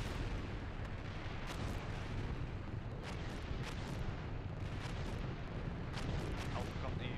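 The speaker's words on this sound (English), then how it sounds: "We're taking fire here." Artillery fire in the tank simulator game Steel Beasts, a dense rumbling barrage with scattered sharp bursts over a constant loud engine-like drone, voices faintly under it.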